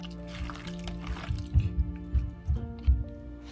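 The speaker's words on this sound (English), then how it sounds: "We add a whole one egg to it." A whole egg being worked into pork slices gives soft, wet squishing and sloshing pulses close by, several squelches in an uneven rhythm with a low background hum.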